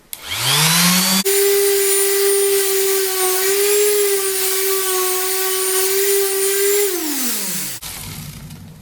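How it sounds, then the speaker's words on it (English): Electric power sander whirs up to speed and runs steadily for several seconds with a high tonal whine, sanding a cast iron top, then winds down and stops. "I'm just going to sand her off"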